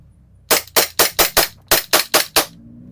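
An Umarex VFC Glock gas blowback airsoft pistol fires ten sharp, loud shots in two quick bursts of five, each with a snappy crack, at close range with no talk.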